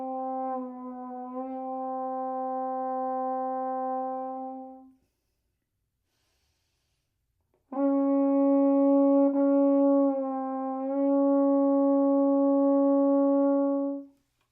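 A brass instrument plays the Caruso six-note exercise with lip bends down a half step. Long sustained tones sit in two phrases separated by several seconds of silence, with a small pitch dip in the second phrase, clear and alone.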